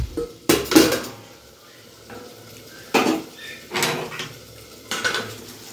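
Spices for a fish curry are stirred in a pan on the stove. A few sharp metallic scrapes and clanks from the utensil against the pan come in separate bursts over a faint background sizzle.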